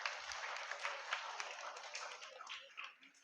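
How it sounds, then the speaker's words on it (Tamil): A church congregation applauds during a New Year mass at St. Xavier's church, a dense, steady patter of many hands clapping that swells and fades slightly across the room. "அவர்களுக்கு ஒரு சிறப்பான கைத்தட்டு."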